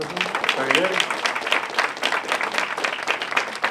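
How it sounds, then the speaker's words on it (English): Audience at a lecture in Maribor claps in a steady, dense burst of applause, with a voice speaking briefly over the start. "Applause."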